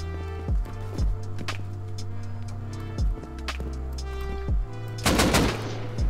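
Gunfire in the survival game Rust, with several sharp, spaced gunshots with low booming tails over a steady background hum, closing in a denser burst of noise.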